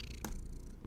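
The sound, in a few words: cat purring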